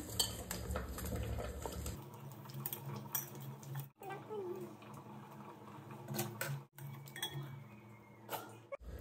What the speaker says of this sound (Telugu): పచ్చిమిర్చి, పుదీనా, చికెన్ మసాలా కొద్దిగా, గరం మసాలా కొద్దిగా, ఇవన్నీ చికెన్కి పట్టేలాగా బాగా కలుపుకుందాం